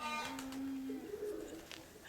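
A domestic pigeon gives a soft cooing call, a short, low, throaty sound heard once near the start against quiet background noise.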